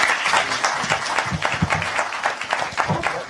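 An audience at a tech conference in Harlem breaks into applause after a speech, a sustained wash of many hands clapping at moderate distance.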